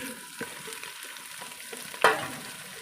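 Ginger paste frying in ghee with browned onions for chicken biryani, a faint steady sizzle with soft stirring scrapes and one sharper clatter near the end, close and without talk.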